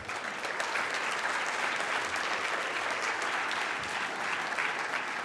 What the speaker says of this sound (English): I love when you clap.